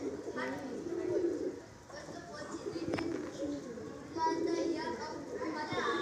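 Madrasi pigeons coo in soft repeated rolling phrases at close range, with someone speaking over the birds throughout.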